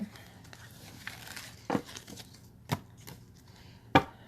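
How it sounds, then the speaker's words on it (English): Tarot cards laid out on a table, heard as a few sparse, sharp close-up snaps and slaps with soft shuffling and crinkling between them, no talk. "let me pull up these cards and lay out the rest of our cards here"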